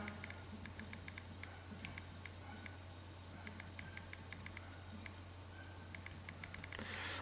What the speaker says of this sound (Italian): Digitazione con tastiera.